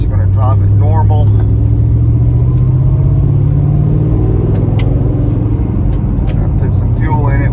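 A 2007 Mustang with a newly installed engine and six-speed transmission is driven gently, its low steady engine rumble filling the cabin while people talk over it.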